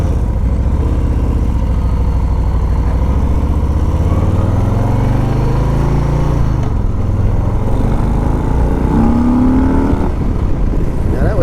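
2021 Harley-Davidson Street Bob 114 cruiser ridden hard at about three-quarter throttle, a loud, steady V-twin roar with rising engine pitch and constant wind rush, no speech.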